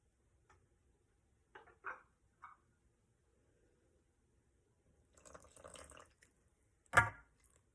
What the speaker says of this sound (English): Next, I'm gonna put in the water, which is supposed to be warm water.